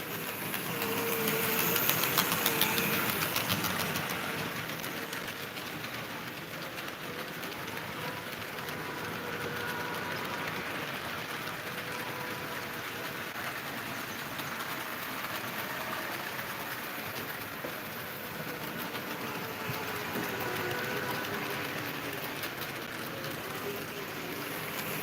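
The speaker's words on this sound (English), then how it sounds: "one of them had the gear stripping noise" Union Pacific locomotive engine, one of the units said to have a gear-stripping fault, giving a steady, loud, broadband rumble and rattle that runs without a break and swells slightly near the start.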